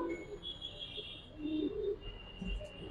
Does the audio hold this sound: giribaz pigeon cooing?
yes